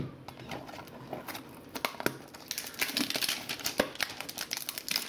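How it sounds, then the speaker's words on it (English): Trading card packs from Optic football hanger boxes are ripped open, with crisp crinkling foil and sharp tearing bursts coming in quick irregular clusters, close and fairly loud, with no talking. "Now let's rip some cards, rip some packs."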